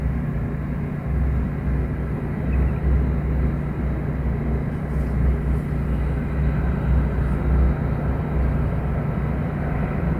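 An inverter air conditioner's fan spinning up after a repair for an F4 error, a steady broadband whoosh with low rumble, constant and fairly loud throughout with no talk.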